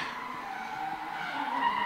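A Mazda FC RX-7 drift car with a 1JZ swap, around 530 horsepower, skids on track at Baypark Stadium, giving a steady, moderately distant tire squeal and engine drone through the short span.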